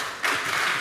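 Audience applause rises suddenly at a live concert hall and holds as a brief, fairly quiet wash of clapping.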